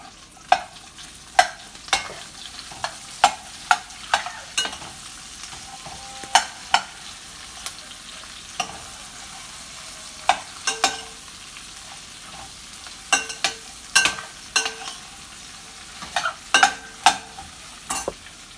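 Onion and meat frying in a pan for fajitas, a soft steady sizzle broken by frequent sharp clacks and scrapes of stirring, close and alone.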